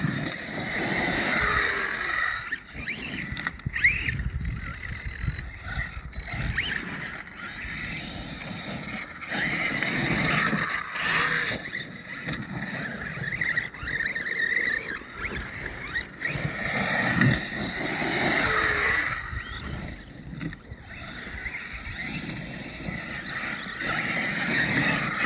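An Arrma Kraton 8S RC car runs around a dirt pit, its electric motor whining steadily and surging repeatedly at close range for the whole stretch, with no talking over it.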